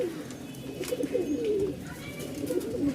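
Rajshahi Giribaz pigeons coo in low, rolling calls close by at a pigeon market in Mirpur-1, Dhaka, with faint market noise behind them.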